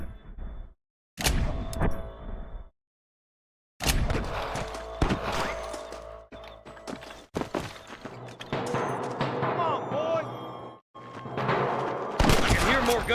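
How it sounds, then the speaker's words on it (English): Gunfire in Red Dead Redemption during a shootout with snipers, heard as repeated sharp cracks and thuds at varying distance, mixed with game ambience and effects across the clip, with brief silent gaps. "More gunshots."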